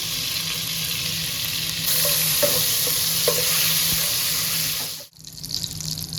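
Cumin seeds sizzle in melted butter in a pan for palak paneer, a loud, dense, steady frying hiss that drops away abruptly near the end, with no voices.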